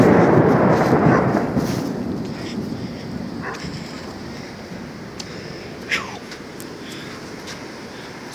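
A thunderstorm with rain: a loud, deep rumble of thunder that fades over several seconds into a steady rain hiss, with a few faint distant sounds near the end.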